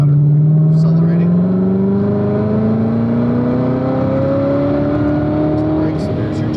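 A car accelerates on a track, its engine note rising steadily in pitch over several seconds, loud and close, with an instructor's voice faintly over it.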